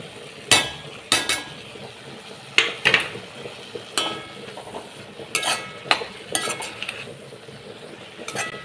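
A spoon stirs Kerala-style varutharacha sambar in a pot after crushed garlic, chilli and coconut go in, giving a run of irregular clinks and scrapes against the metal, close and fairly loud, with soft sizzling underneath.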